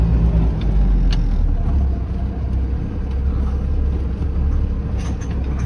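Car driving along a desert piste in Tunisia at night, a steady low engine rumble and road noise running continuously and fairly close, with faint clicks and rattles over it.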